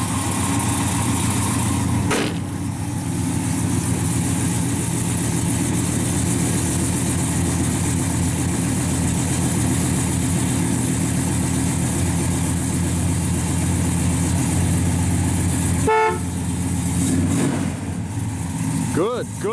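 A 1967 Plymouth Belvedere GTX with a lumpy cam and 727 automatic cranks and fires, then settles into a steady, loud, throbbing idle that runs on for many seconds, with a brief interruption late on.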